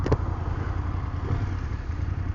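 A BMW F800GS motorcycle is ridden with a steady, rumbling engine drone and wind noise. Loud and constant, recorded close to the bike, with no talk.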